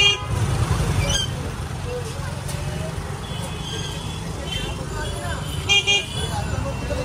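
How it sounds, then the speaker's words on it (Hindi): Car horns honk repeatedly amid a heavy traffic jam on a busy Kolkata street near construction work, with several toots over steady engine and street noise and a louder cluster near the end. "जाम देख सकते हैं यहाँ पे, भयंकर ट्रैफिक जाम लगा था"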